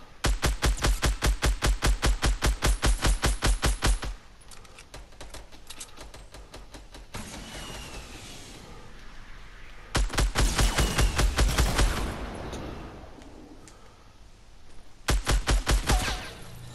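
Automatic weapon fire in a Fortnite match comes in long rapid bursts, loud and close, separated by quieter stretches of lighter gameplay sounds.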